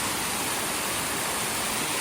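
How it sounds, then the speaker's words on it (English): A full, powerful waterfall along the Pacific Crest Trail, a dense, steady roar of falling water that fills the scene close up without any break or talk. "That's a legit full-on waterfall."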